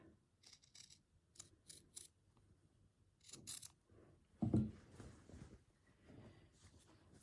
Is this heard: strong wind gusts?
no